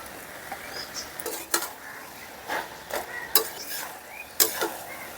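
Fried giant river prawns are stirred into a frying banana flower curry. A spoon scrapes and clanks against the pot in irregular bursts over a soft, low sizzle, and no one talks.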